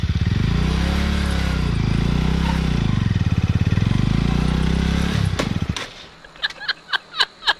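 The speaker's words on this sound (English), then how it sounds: "we're gonna start the motorcycle" A motorcycle engine runs with rising and falling revs, then cuts out, followed by a series of short rhythmic thumps and clicks.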